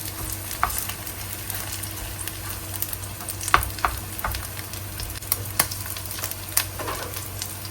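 A Chiu Chow loofah batter pancake frying in oil in a wok gives a continuous close sizzle with scattered pops and light scraping clicks, no voices heard.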